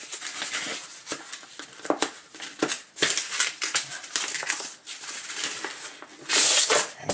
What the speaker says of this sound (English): I've just got a pair of scissors here, which can help out.